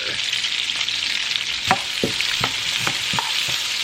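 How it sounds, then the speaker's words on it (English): Onions cooking in saved fat from ground beef, a constant loud sizzle broken by several sharp scraping stirs of a utensil in the pan. "we're going to save all that fat and we're going to put the onions in and get them nice and cooked up"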